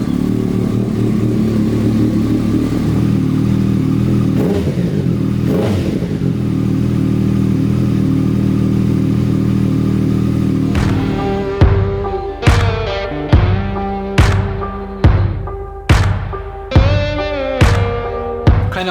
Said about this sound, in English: the Rode mic didn't really pick up the sound of the exhaust that well